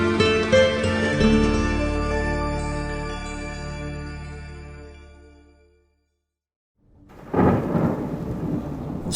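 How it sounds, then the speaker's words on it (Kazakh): A thunderstorm effect: a long, droning rumble slowly dies away into a moment of silence, then a fresh loud crash of thunder bursts in with a rushing wash of rain, with no voices. "Соқ найзағай, соқ күркіреп"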